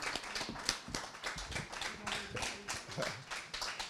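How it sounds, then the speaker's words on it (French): Audience clapping at a literary event following a speech, a moderate, uneven patter of individual claps at close range, with no voices over it. "Ces applaudissements montrent vraiment la profondeur de votre réflexion."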